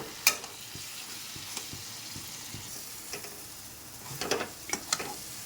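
Jackfruit cutlet mixture stirred in a hot frying pan, a soft steady sizzle with scattered scraping taps of the spatula and a cluster of louder scrapes near the end, close and fairly quiet with no voices.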